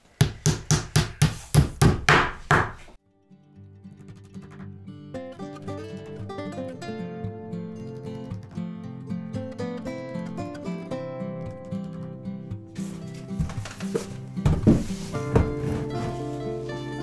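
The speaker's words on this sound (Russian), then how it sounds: "все наши ДВПшки прихватываем на гвозди с одной стороны и с другой стороны" A hammer drives nails into fiberboard panels of a Dadan beehive body with foam inside, about a dozen quick sharp knocks in an even rhythm over the first few seconds, then music carries on alone.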